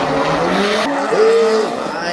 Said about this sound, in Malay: Kereta tu nak drift lepas ni.